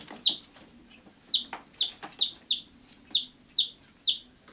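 Repeated short clucks from a young tom turkey, about eight evenly spaced calls close by, with quiet background noise between them.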